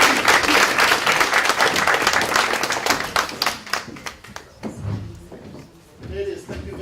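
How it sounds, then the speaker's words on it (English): Audience applause welcoming five panelists onto the stage at a women in supply chain management event, dense sustained clapping that thins out after about four seconds, leaving scattered claps and a few low thuds. "Please welcome to the stage MJ, Deborah, Pamela Steele, Laura, and Kia Mapani. Give them applause"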